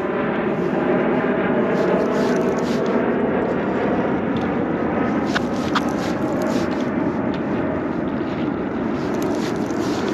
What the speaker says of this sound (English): Yeah, it's just constant air traffic here.